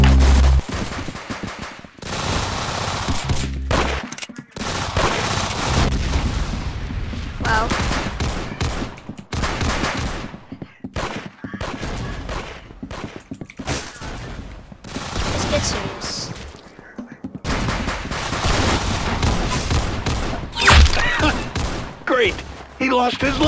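Gunfire in Roblox Arsenal, with bursts of rapid automatic shots and single cracks coming in clusters separated by short gaps, loud and up close, while voices talk over the shooting.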